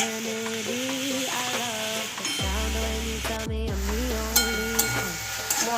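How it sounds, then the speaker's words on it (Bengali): Mushrooms stirred and fried with spices and dried chillies in a pan, a low sizzle and utensil scrapes sitting under loud tonal background music, with a few sharp clinks near the end. "দিয়ে এবার দিয়ে আমি মশলাগুলোর সঙ্গে ভালো করে মিশিয়ে নেব"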